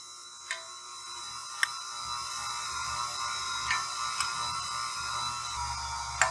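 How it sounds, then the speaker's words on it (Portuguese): A stand mixer runs on low speed, mixing cake batter as powdered milk is added. Its steady, whining motor hum carries on throughout, with a few faint ticks and no talking. "Vou ligar minha batedeira aqui no fraquinho"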